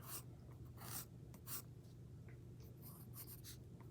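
A pencil or pen scratches across paper in quick, short strokes, quiet and close, with brief pauses between lines.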